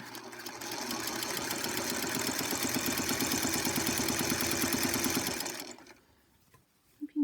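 A sewing machine with an attachment stitches down the narrow edge of a folded fabric block, a steady rapid whir running for about five seconds before stopping, then a quiet pause and a couple of small clicks.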